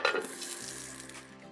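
Cauliflower pieces frying in a pan with a steady, dense sizzle that starts loudly and settles into a continuous crackle, close and alone without talk.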